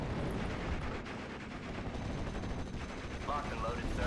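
Artillery and gunfire from the Steel Division: Normandy 44 battle game, in a dense, continuous wash of rumbling shots and blasts that runs throughout at steady loudness with a voice briefly in the mix.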